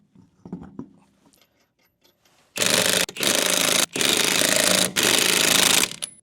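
A power tool fastens a wheel back onto a 2006–2012 RAV4 4WD after a shock and strut replacement, running in four loud, harsh bursts up close with brief pauses between them, after a few quieter clanks.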